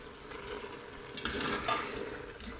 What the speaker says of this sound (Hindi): अब हमने इसमें हस्बे ज़रूरत घी डाल देना है और तकरीबन इसको 5 से 10 मिनट के लिए अच्छे से भून लेना है